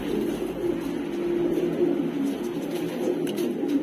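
Madrasi pigeons coo softly and repeatedly at close range, low rolling calls with a faint rustle in the background.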